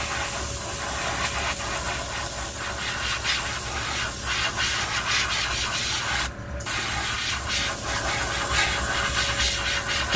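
Airbrush spraying a coat of paint onto a vintage Storm Wiggle Wart fishing lure, a steady close hiss that runs almost continuously with a brief break partway through, over a faint constant hum.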